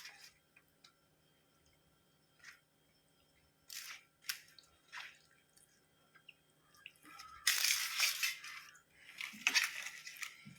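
Cleaned prawns are mixed by hand for kebab, heard as sparse soft squelches and wet clicks, with one longer messy burst of mixing near the end, close by and fairly quiet.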